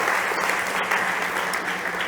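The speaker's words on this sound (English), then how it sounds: "big applause for Monica" Steady audience applause at a startup competition stage event on sustainability, a dense wash of clapping holding at a constant level throughout with no pauses.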